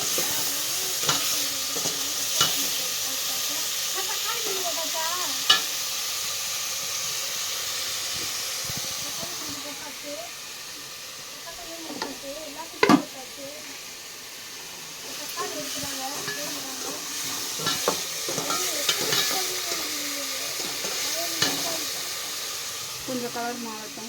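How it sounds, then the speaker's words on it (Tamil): Onions with salt fry in a pan for a Sunday chicken gravy, a steady close sizzle and hiss with repeated scraping and stirring clicks of a spoon; a person speaks over the cooking. "வெங்காயத்தில் உப்பு போட்டுக்கலாம் அப்போ தான் வேகமாக வாங்கும் கொஞ்சம் வெங்காயம் கலர் மாறட்டும்"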